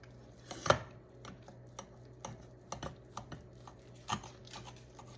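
Knife cutting into homemade cubed fried steak, giving a series of quiet, short tapping and scraping strokes spaced irregularly, one sharper cut standing out near the start, with no talking.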